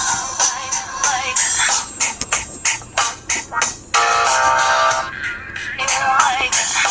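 Pop song playing through the small loudspeaker of a FAEA F2S phone, fairly loud and continuous, with bright trebly vocals and rhythmic beats over a thin, tinny low end.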